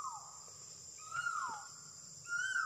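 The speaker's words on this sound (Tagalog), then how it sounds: "Ano, may ibon." A bird calls outdoors at night, repeated descending and rising whistled notes sounding a few times at moderate distance over a quiet background with a steady high insect-like drone.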